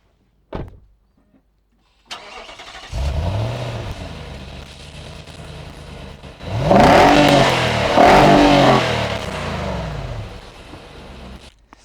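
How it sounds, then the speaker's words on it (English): A 2024 Nissan Patrol Warrior SUV starts up and its exhaust is revved twice hard, rising to loud, close roars that fall back to a rumbling idle, with a short click at the start. "let's talk about the cool features of this car, starting with its exhaust"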